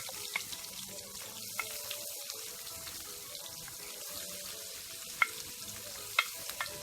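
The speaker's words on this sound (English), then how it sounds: "now that the pot hot, I am going to saute out the garlic" Garlic and seasoning sautéing in a hot pot, a soft steady sizzle with repeated spoon scrapes and a few sharp clinks against the pot, close up and fairly quiet, no talking.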